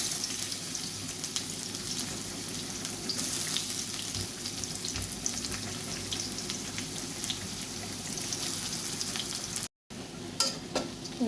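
Onion frying in a little mustard oil, a continuous close sizzle with light scraping, steady for most of the stretch, then a brief dropout followed by a few louder clatters near the end.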